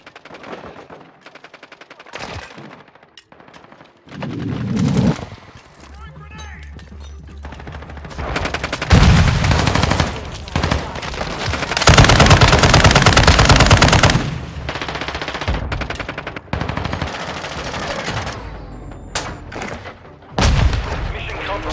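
Call of Duty gameplay brings bursts of machine-gun fire and single shots with booming impacts, coming in waves loud up close and then fading, with game voice lines and radio chatter mixed in.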